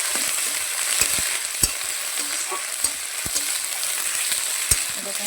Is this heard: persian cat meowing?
no